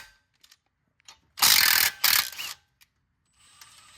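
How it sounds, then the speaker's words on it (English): A ratchet wrench loosens the nut on a car's front strut bolt, where it passes through the strut and steering knuckle. It gives a couple of loud, fast clicking bursts up close, with quiet gaps before and after. "So basically, just take the nut loose."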